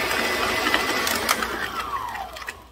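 Electric stand mixer beating butter and sugar together for a lemon butter cake, a steady close whirring drone running throughout with small clattering bumps, fading at the end.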